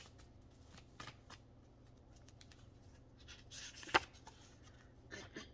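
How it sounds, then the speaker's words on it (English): Tarot cards are shuffled and pulled, making soft, faint papery riffles and flicks in scattered bursts with one sharper snap of a card, close and quiet. "I'm going to pull another intuitive card"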